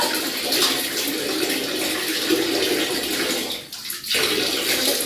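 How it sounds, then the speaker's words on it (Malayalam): Water runs steadily from a tap while someone washes their face, a continuous close splashing rush that dips briefly before resuming. "ഇനി ഞാൻ കഴുകിയിട്ട് കാണിച്ചു തരാം ഒരു മിനിറ്റ് വെയിറ്റ് ചെയ്യൂ നന്നായി കഴുകുക"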